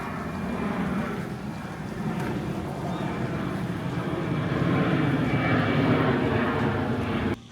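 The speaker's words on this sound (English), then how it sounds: "we got planes flying over us" Airplanes fly overhead near an airport in Tampa, a steady broad engine roar that swells slightly louder toward the end, with no voices.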